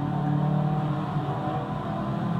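A Subaru's exhaust roars steadily inside a tunnel as the car drives through at speed. The engine note is loud and continuous, with a sustained rumble and no talking.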